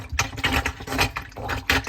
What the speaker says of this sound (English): you just throw it in here and plunge it like it's a toilet